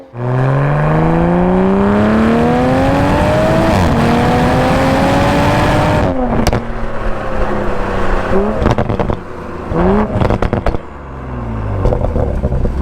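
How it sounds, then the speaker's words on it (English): A Toyota Supra in sport mode revs hard, its engine and exhaust rising through gears with loud, close howling, then a shift and sharp blips, crackles and pops as it slows. "Put it into sport mode, seriously, and the Supra barks and howls non-stop."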